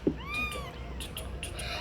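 A cat gives a short rising-and-falling meow early on, fairly close and clear, followed by faint higher chirps over a low background rumble.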